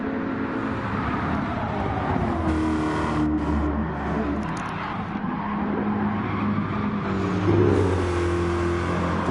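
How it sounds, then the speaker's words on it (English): Race car engines revving hard in a PS4 racing game, one car smoking its tyres while defending position: loud, continuous engine roar with shifting pitch, tyre squeal and cars passing, no talking. "Loads of smoke there coming off Molson's tyres, giving it the beans"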